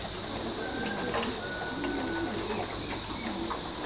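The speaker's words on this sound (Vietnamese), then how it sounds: "cho một cặp chim bồ câu ra ràng nuôi tầm khoảng trên 20 ngày" Pigeons, including squab about twenty days old, give soft low cooing calls now and then over a steady hiss of background noise, fairly close and subdued.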